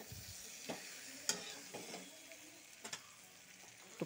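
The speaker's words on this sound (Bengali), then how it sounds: "মশলাটা সুন্দর করে ভাজা হয়ে গেছে" Spices fry gently in a pan for a pointed gourd and potato ghonto with bhog rice: a soft, steady sizzle broken by occasional scrapes and clicks of stirring.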